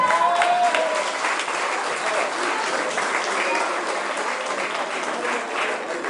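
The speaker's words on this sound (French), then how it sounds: "Je voudrais qu'on l'applaudisse." An audience at a podium event applauds a guest welcomed on stage, steady dense clapping that holds loud for about six seconds with a brief whistle-like tone near the start.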